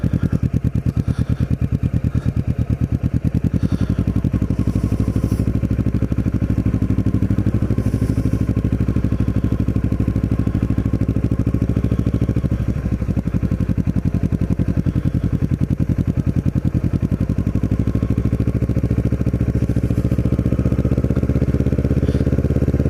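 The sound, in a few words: Kawasaki Ninja motorcycle riding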